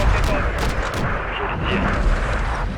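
Call of Duty MW2 campaign combat, loud booming and rumbling gunfire with scattered sharp shots over a dense battle din, with a voice speaking over it.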